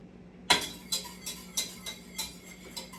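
Wine chocolate sauce being stirred in a pot, a spoon clinking against the pot's side in a steady rhythm of about eight taps, close and clear with no voices.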